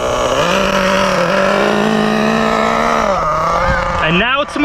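A Losi 8ight nitro RC buggy engine runs with a loud, buzzy, high-pitched drone that holds steady at idle, dips briefly and then climbs in quick revving blips near the end.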